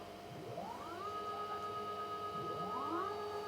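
A DIY CNC router's Z-axis stepper motor moving faster, heard as two quiet rising whines that ramp up in pitch, hold steady, and settle, over a constant low hum.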